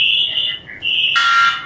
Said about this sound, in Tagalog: Nag-alarm siya pag nakita siyang tao.